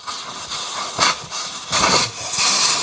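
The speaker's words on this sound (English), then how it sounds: "The first thing you got to do is take out the valve core." Air hissing out of a Ford Bronco tire as the valve core is removed, a loud, close, broadband rush that pulses and swells several times over a few seconds.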